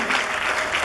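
A brief burst of clapping from a church congregation acclaiming the Lord during a sermon, dense and even from many hands, with no pauses.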